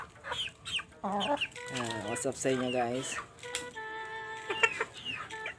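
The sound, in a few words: chicken clucking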